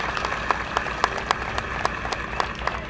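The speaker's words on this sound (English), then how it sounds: "Let's give this family a huge round of applause" At an ALS charity walk, a thin outdoor crowd claps for a family, with scattered distinct hand claps in a loose rhythm over a steady low background hum.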